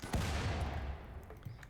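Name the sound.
explosion in video game RimWorld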